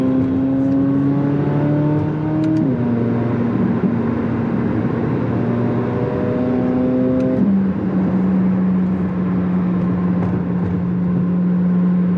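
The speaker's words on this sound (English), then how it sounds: "Pops and bangs on deceleration." A 2025 Corvette Z06 engine drones steadily and loud, its tone stepping down in stages through gear shifts as it decelerates. Faint crackling pops sit under the exhaust note, with no talking.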